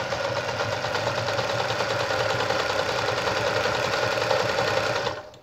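A Veritas Zick-zack sewing machine stitches through fabric in a steady, fast, loud mechanical whir that runs evenly for several seconds and then stops abruptly.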